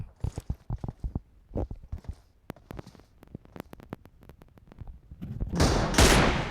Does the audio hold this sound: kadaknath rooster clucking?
no